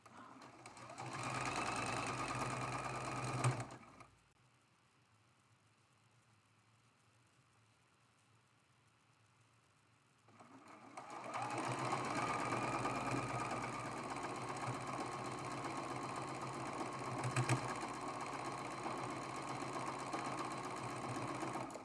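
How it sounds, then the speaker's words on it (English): A sewing machine stitches a seam on a traditional tea leaf quilt block, running steadily for a few seconds, pausing briefly, then humming again in a long continuous run, close and fairly quiet with no talk. "Now we're going to go ahead and sew this seam"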